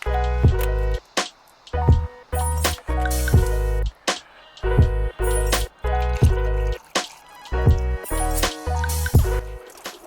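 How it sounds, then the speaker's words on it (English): Antifreeze glugging and splashing as it is poured straight into a hose on a MerCruiser 3.0 boat engine during winterizing, in loud, close, uneven bursts with short pauses between pours. "take your antifreeze and pour it directly into this hose"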